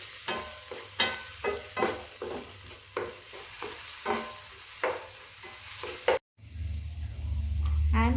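Soya kheema being stirred in a hot pan, with repeated scraping strokes over a steady sizzle, a brief gap near the end, then a louder continuous fry.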